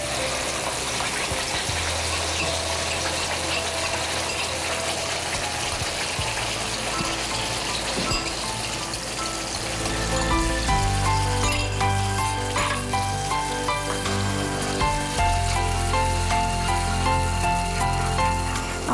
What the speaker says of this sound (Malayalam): നമ്മളിതിലേക്ക് അരച്ച് വച്ചിരിക്കുന്ന മസാല പേസ്റ്റ് അത് ഇതിലേക്ക് ചേർക്കും.